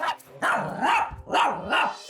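A dog barks at visitors arriving at a home: three or four loud, close barks in a steady rhythm, with a growly edge and no talk over them.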